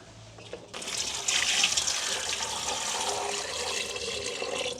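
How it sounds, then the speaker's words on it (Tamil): Water from a tap or jug splashes steadily into a cooking pot for boiling cassava in a village kitchen, starting abruptly and running as a continuous, fairly close gush with no talk. "இப்படி இந்த பானைக்கு தண்ணியை விட்டு அவிய விடுவேன்"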